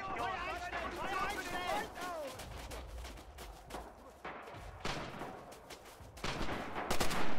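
Rapid machine gun bursts and scattered gunfire in a war video game, dense and continuous across the whole span, with people talking over the shooting.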